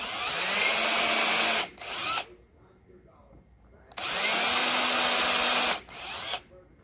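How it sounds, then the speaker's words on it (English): A power drill whirs in two long bursts pre-drilling screw holes in a guitar headstock for tuners, each followed by a short extra spin, with quiet pauses between; close and loud. "you're gonna pre-drill those holes"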